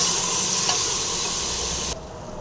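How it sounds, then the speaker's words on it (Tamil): Onion and tomato fry in a pan for a mango vegetable sambar, giving a steady, close hiss of sizzling oil that drops suddenly to a quieter simmer near the end. "தக்காளி கூட நல்லா ஃப்ரை பண்ணி நல்லா வதங்கட்டும்"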